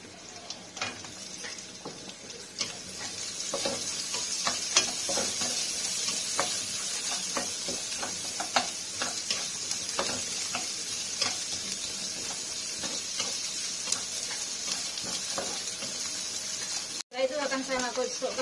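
Chopped onion is tipped into hot oil with softened garlic and stirred in a pan, a steady sizzle with repeated scraping strokes running throughout, close and fairly loud, with a sharp clatter near the end.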